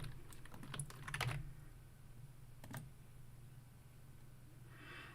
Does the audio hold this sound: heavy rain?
no